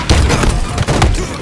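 A grenade detonating in a Halo Infinite King of the Hill match, a loud close booming blast with rumbling low-end thuds and a second concussive hit about a second later, dense and punchy with no voices.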